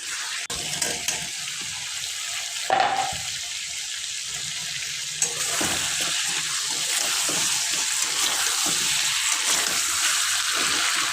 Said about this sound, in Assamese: আলুখিনি দিও এনেধৰণে লাৰিব লাগিব